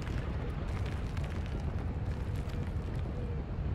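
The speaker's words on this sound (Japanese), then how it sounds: "長距離砲撃が行われたようですが" Long-range artillery bombardment in Final Fantasy XIV, a sustained, loud, rumbling eruption of explosive noise that rolls on without a break.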